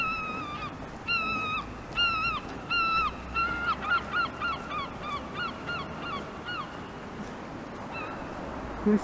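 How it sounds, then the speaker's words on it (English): Gulls call repeatedly at a beach promenade, with a run of harsh, honking cries close by. They pause, then come back fainter over a steady background roar of wind and surf. "listening to the seagulls."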